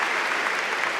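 Loud, steady applause from a graduation audience fills the space, a dense wash of clapping honoring the graduates.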